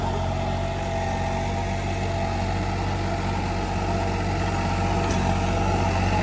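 A Sonalika Challenger 47 HP tractor engine runs freely with no load, a steady, loud, even diesel drone that holds unchanged throughout.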